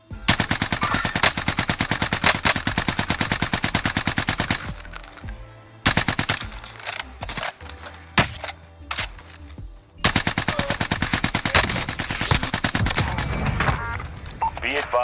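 Rapid automatic gunfire in a PS5 shooter game, played with a Cronus Zen for no recoil, with long sustained loud bursts broken by short pauses and single shots, enemies firing back and game effects mixed in.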